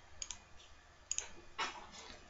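Light mouse clicks while retouching in Photoshop, a few soft, sharp single and double clicks spaced irregularly, close and quiet, with no talking.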